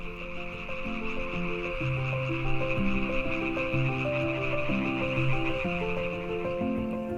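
Frogs and toads calling at a pond at dusk, a dense chorus of overlapping croaks and trilling notes that rise and fall continuously, loud and close with no voices.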